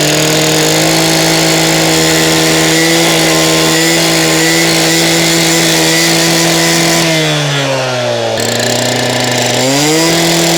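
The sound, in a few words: gas-powered saw cutting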